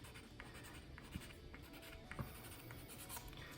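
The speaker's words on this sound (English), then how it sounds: "we're going to make a line with a pencil or pen" A pencil or pen draws a line across weaving on a loom, a hand's width from the end, making a faint, steady scratching that runs throughout with a couple of slightly sharper strokes.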